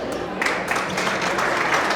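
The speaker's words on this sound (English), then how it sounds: "A big round of applause for the Honorable James Poulos, a great MC." An audience at an awards ceremony applauds, a dense, steady wash of clapping from a large crowd that fills the whole moment without pause.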